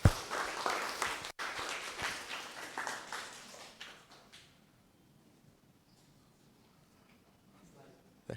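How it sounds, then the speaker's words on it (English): An event audience claps in a round of applause, a dense burst of clapping that fades away over a few seconds and leaves quiet room tone, with a brief sharp sound at the very end. "Let's give them all a round of applause."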